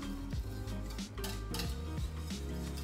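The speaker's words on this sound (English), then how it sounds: "Definitely love making sauces with this flat whisk." A flat whisk clatters and scrapes around a pan as a chicken pot pie sauce is stirred, producing close, busy metallic scraping over a constant low hum.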